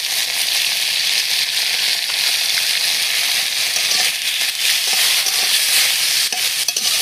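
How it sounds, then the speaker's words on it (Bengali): Eggplant and potato frying in a pan with turmeric, a loud continuous sizzle with scraping stirs running throughout, close and steady with no talk. "বেগুন আর আলু ভালো করে ভেজে নেব"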